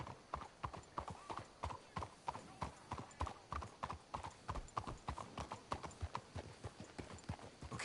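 Horses' hooves in the video game Red Dead Redemption, a brisk, steady clip-clop of several horses trotting close by throughout, with faint game sounds underneath.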